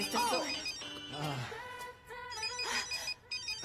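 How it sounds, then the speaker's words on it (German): A telephone rings in a German-dubbed film scene, its electronic ring tones repeating at close range under background music and voices. "Es klingelt."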